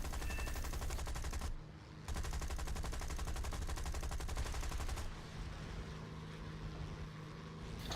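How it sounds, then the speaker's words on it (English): Nose-mounted cannon on a French D.520 fighter in War Thunder fires in rapid, harsh bursts over a droning engine, with a brief pause between volleys and a steady engine roar after the firing stops. "Lucky cannon shot again."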